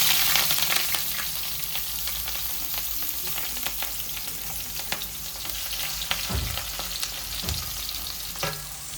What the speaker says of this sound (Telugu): ఈ ఉల్లిపాయలు పచ్చిమిర్చి బాగా వేగిపోవాలండి